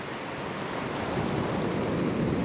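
Ocean surf surges against coastal rocks, a steady broadband wash that swells slightly louder toward the end, with no voices.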